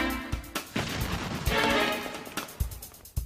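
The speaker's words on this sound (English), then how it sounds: "cannonballs, close to the size used by Santa Anna at the Alamo, will be fired at the test wall" A cannon fires a cannonball, close in size to those used at the Alamo, at a test wall; several heavy booms and crashing impacts follow one another, loud and close, with no talk.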